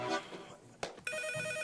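Telephone ringing as a call is placed, a steady repeating electronic ring tone that starts partway through after a brief click, fairly loud and close, with faint background sound before it.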